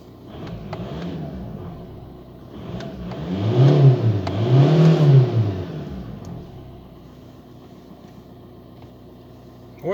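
A Volkswagen Golf 5 1.9 TDI 105 diesel engine idles, then is revved twice in close succession, rising and falling loudly before settling back to idle, with no voices.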